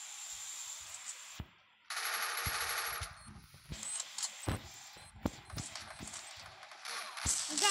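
Gunfire in the Free Fire mobile game during a Clash Squad ranked match: bursts of rapid automatic shots and sharp single cracks mixed with a sustained noisy blast, fairly close, with no speech heard.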